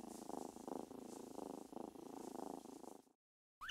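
Several kittens in a box purr steadily up close, a pulsing rhythmic rumble lasting about three seconds before stopping, then a faint brief sound.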